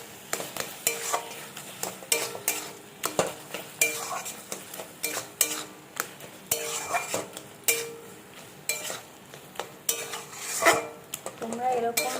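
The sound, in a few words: spice poured into pot and stirred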